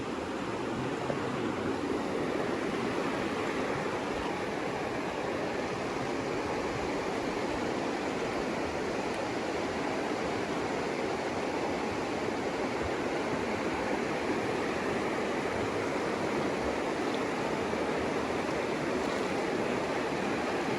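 Ganges river water at the riverbank gives a steady, dense rush of flowing water, unbroken and fairly soft, with no voices over it.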